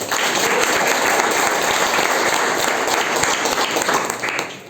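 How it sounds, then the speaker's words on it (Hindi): A crowd breaks into loud, sustained applause, dense clapping filling the space steadily for several seconds before easing slightly at the end. "एक बार जोरदार ताली बताओ।"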